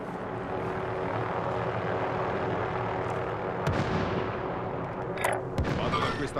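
An enemy helicopter in the video game Call of Duty: Modern Warfare drones as a steady, loud rotor and engine roar under constant battle noise, with sharp gunfire cracks toward the end.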